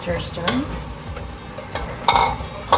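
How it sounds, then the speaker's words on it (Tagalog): A spoon stirring pork broth into kare-kare in a metal pot, with a few close scrapes and clinks against the pot over a soft bubbling sizzle, no talk. "We add, and then stir."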